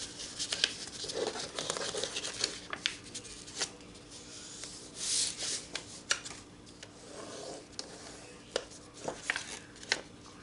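Paper is scored and folded by hand to make an envelope, giving soft crinkling, rubbing and sharp creasing clicks that come in an uneven, close-up patter.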